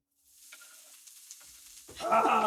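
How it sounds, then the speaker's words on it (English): Onions dropped into a hot pan start sizzling loudly near the end, with some quieter stirring and handling sounds before the frying noise rises. "So now in with your onions."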